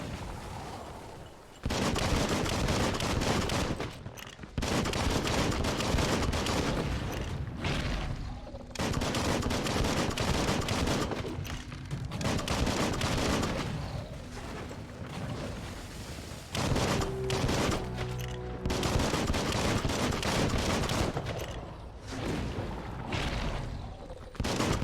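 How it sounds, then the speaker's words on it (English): Gunfire in the video game Biomutant, dense bursts of rapid shots and booms that come in long waves with brief gaps, loud and close, with no talking. "Bullets everywhere."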